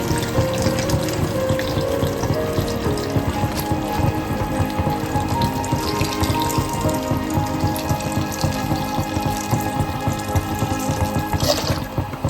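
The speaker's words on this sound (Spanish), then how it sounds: "Y lo vamos a cubrir con caldo." Broth is poured over stuffed zucchini in a pan, making a loud, steady, close splashing gush of liquid that runs on without a break.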